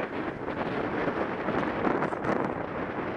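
Strong wind roars steadily across the microphone on the Cape Horn Loop hiking trail, a loud continuous rushing buffet with no other clear sounds.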